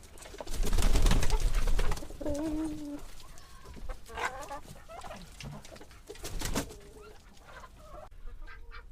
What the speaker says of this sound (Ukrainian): Зараз випущу своїх курочок і загляну до них.